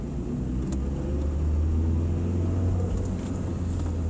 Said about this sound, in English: Like right now I'm taking off in seconds. It's going to vibrate the fuck out of the truck.